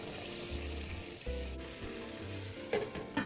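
Hot water poured into a sizzling pan of tofu, a close steady sizzle with low bursts of bubbling and a few sharp clatters near the end.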